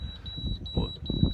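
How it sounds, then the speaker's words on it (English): Vessel-adrift alarm on a 50-foot liveaboard sailing yacht, sounding as a steady run of quick, high electronic beeps that carry on under someone speaking nearby. "we've got vessel adrift alarm going off"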